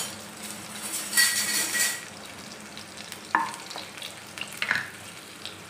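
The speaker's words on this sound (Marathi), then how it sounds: "तेल तापलेलं आहे, याच्यामध्ये टाकायचं आहे लसूण।" Garlic, crushed with its skin on, dropped into hot oil in a pan: a steady close sizzle with occasional scraping stirs and light metallic clinks.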